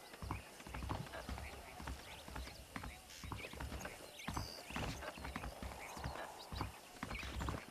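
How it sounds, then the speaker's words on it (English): Horse hooves clip-clopping steadily in Red Dead Redemption, a regular trotting rhythm up close with a brief whinny, under a man's continuous speech. "The horses are saddled up over here."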